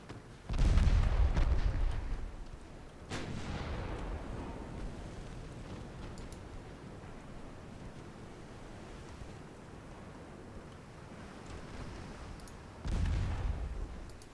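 Warship main guns firing in Ultimate Admiral: Dreadnoughts against a light cruiser, three heavy booming salvos spaced apart, each with a deep blast and rolling rumble fading into sea noise, no talk.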